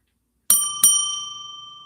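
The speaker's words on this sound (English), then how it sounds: "it's a little ding ding for the bell, like a bike bell" A bicycle bell sound effect in an edited clip rings twice in quick succession, giving two bright metallic dings with a long shimmering decay, clear and alone against silence.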